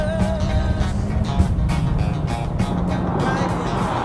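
Renault Fluence GT accelerating hard from a standing launch at around 4,000 rpm, a loud sustained engine roar rising in pitch through the gear, heard from inside the car.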